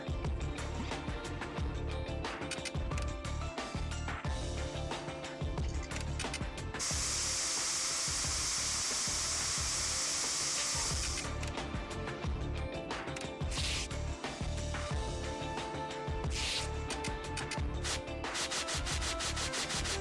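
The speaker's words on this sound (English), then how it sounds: "Let's spray everything. All the Spray things." In the Trauma Team video game, forensic spray is applied during an explosion investigation as long, steady hissing bursts mixed with rubbing, scraping game sounds, with one sustained spray in the middle and short bursts later, loud and with no talking.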